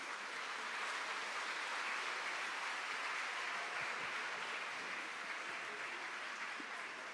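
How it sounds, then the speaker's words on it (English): Audience clapping at a school annual day performance for Grades IV and V, a continuous even patter of many hands, fairly distant and soft, with no talk over it. "Let us give a thunderous round of applause to all our performers."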